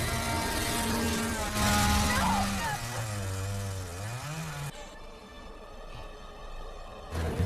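A chainsaw engine drones and revs, its pitch rising and falling as it cuts into a car, mixed with other noisy sounds and voices, then cuts to a quieter rumbling background.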